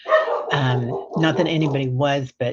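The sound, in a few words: dog barking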